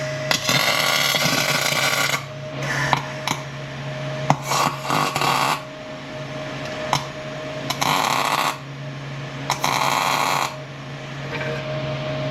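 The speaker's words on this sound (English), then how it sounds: "we're just going to be tacking the nuts for those 2 last holes that we drilled" Tack welding nuts inside square steel tubing for a homemade solid transmission mount: several loud, close bursts of crackling arc, each lasting one to two seconds, broken by short quiet gaps.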